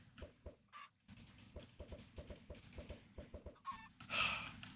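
Chickens clucking in the Minecraft All The Mods 9 modpack, a steady run of short, rhythmic clucks close by, with a brief louder rustle or flutter near the end and no talking.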